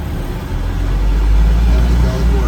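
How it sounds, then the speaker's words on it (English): A 2001 Amtran International bus with a DT466E diesel engine idling high, a loud steady low rumble and drone heard from close by inside the vehicle. "But this bus is too loud to keep in a high idle."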